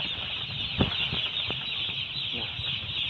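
Broiler chickens in a coop give soft scattered clucks and a brief burst of wing flapping against a steady background hum of the poultry house.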